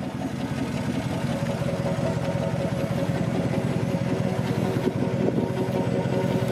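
A truck with a lumber rack and worn tires runs at an estate auction in Northern California. Its engine makes a steady, fairly loud drone with no clear rise in revs and no talking over it.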